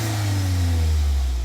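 Audi Q3 with a turbocharged 2-liter four-cylinder engine pulling under acceleration, a steady smooth hum with a slowly rising tone, muted and fairly quiet inside the car.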